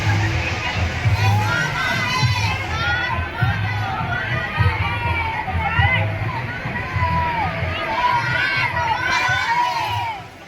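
A large crowd gathers in Palghar for a protest march by local land-rights campaigners, keeping up a dense, continuous roar of many voices with shouts rising above it, near and steady throughout.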